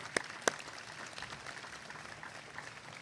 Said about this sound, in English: A round of applause for our students.